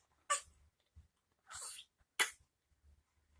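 A person sneezes indoors, giving a few short bursts of breathy, sneeze-like noise spread over a few seconds, faint and fairly close, with quiet low thumps between them.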